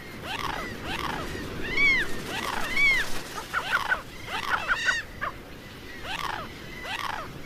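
Grey gulls on the Atacama Desert shore call repeatedly in short, rising and falling squawking cries, several birds overlapping in a rhythmic sequence over a steady background hiss of wind or surf.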